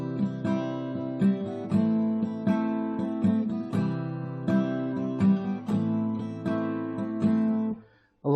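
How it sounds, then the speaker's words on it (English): Strummed guitar chords ring out clearly and alone, a major chord moving to its relative minor in a steady repeating rhythm of bright, full strums that fade out at the end. "The move from a major chord to its relative minor chord has a distinctive sound"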